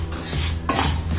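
Urad dal being dry-roasted in a frying pan, stirred with a utensil that scrapes and clinks against the metal in short, close strokes, loud and alone without talk.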